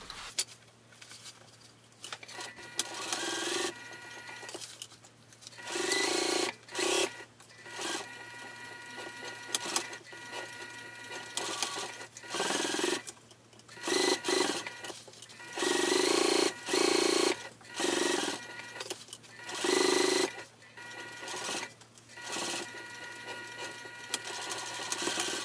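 A sewing machine stitches together a fabric wristlet in bursts of steady mechanical whirring, stopping and starting repeatedly over a low constant hum, close and fairly loud with no talking.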